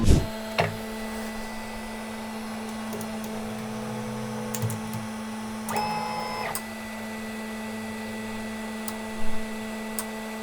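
An Ender 3 V2 3D printer auto-homes, its stepper motors whirring and buzzing in short moves with rising tones and a few clicks over a steady electrical hum, close by and with no talking.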